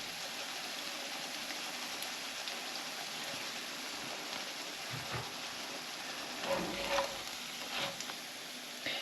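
Hash browns browning in a frying pan give a steady, quiet sizzle and crackle, with a few brief louder spurts of spattering near the end and no voices.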